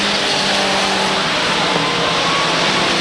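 Mini stock race car number 68 circling the track at Waterford Speedbowl, a loud, steady engine roar at close range that holds through without a break, mixed with broad crowd and track noise and no speech.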